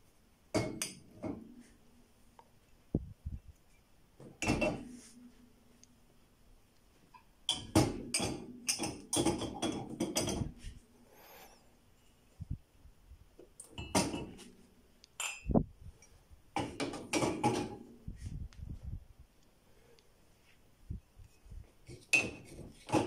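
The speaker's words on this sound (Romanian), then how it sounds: "În partea de sus voi pune căni și pahare." Cups and glasses clink and knock as they are set upside down in a Beko DFN16410X dishwasher's upper rack, scattered clattering bursts with quiet gaps, close by, no voices.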